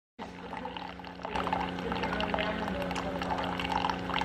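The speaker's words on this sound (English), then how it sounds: "Does anyone else like the sound of the coffee pouring out?" Coffee pouring from a K-Pod coffee maker into a cup, a steady continuous stream that starts abruptly and grows fuller, close and clear with no talk.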